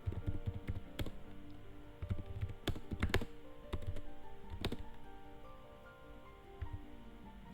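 Keys clatter on a computer keyboard in quiet, irregular bursts of typing, with sharper single taps scattered through and brief pauses, recorded close in a quiet room.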